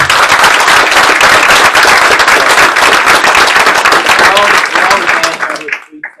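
Applause from a council meeting audience honoring a high school marching band, dense steady clapping throughout that fades out near the end.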